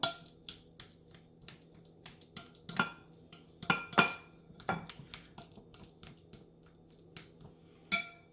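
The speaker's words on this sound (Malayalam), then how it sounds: "അപ്പോൾ അവക്കാഡോ നല്ല ഞാൻ മാഷ് ചെയ്തെടുത്തിട്ടുണ്ട്" Ripe avocado being mashed with a spoon in a bowl while making avocado paratha, giving a run of soft irregular clinks and scrapes, with a few sharper taps standing out, close by and with no talking.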